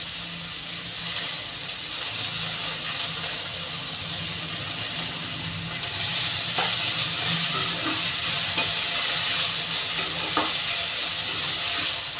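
Moth beans frying in hot oil in a pan, giving a steady close sizzle with light stirring scrapes that swell louder midway and carry on without speech.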